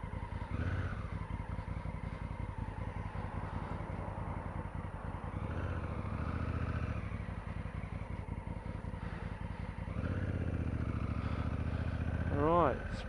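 A Honda Africa Twin DCT motorcycle rides along with a steady, low engine drone under heavy wind rush, swelling as the throttle opens gently around the tenth second and holding to the end.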